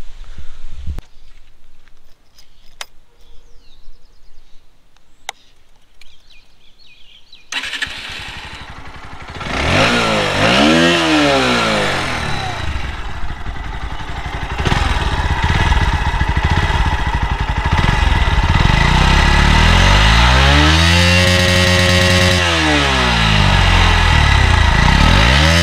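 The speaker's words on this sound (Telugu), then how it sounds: "ఒకసారి ఎగ్జాస్ట్ సౌండ్ అయితే వినండి" Bajaj Pulsar NS 125 motorcycle exhaust starting up after a few quiet seconds, then a loud, close, steady idle broken by repeated revs that rise and fall, growing louder toward the end.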